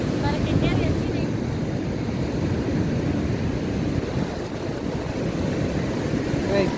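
Waves breaking on a beach in El Salvador make a steady, loud broadband wash with wind buffeting the microphone and faint voices at the start.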